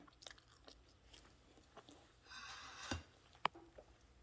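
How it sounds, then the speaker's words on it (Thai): Someone bites into and chews a soft homemade cupcake close to the microphone, giving a few quiet, moist chewing and squishing sounds with a sharper bite click near the end, alone without talk. "มาค่ะจะลองชิมดูค่ะ นุ่มเค้กนุ่มมากค่ะ"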